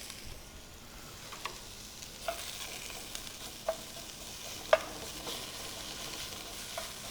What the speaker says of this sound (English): we're gonna start by putting down some of our chili infused oil and our sliced